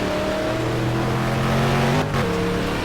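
Several off-road racing buggy engines roar together at close range, loud and continuous with shifting pitches as they rev and pass.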